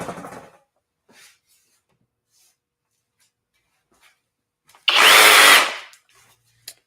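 A Flex cordless reciprocating saw runs in one loud, dense burst of about a second, near and alone after a quiet stretch with faint handling noises.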